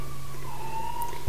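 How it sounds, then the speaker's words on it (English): A deaf dog howls faintly in the background with a single long, wavering tone over a low steady hum. "Pardon my dog howling in the background."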